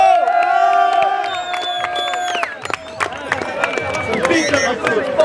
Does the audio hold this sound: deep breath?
no